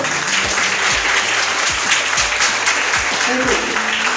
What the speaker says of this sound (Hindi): एक बार ताली अपने लिए।